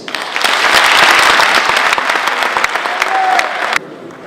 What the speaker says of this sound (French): je vous demande d'applaudir pour ça